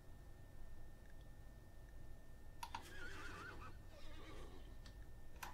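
A horse in the game RimWorld whinnies briefly midway, a faint neigh over quiet ambience with a few soft ticks.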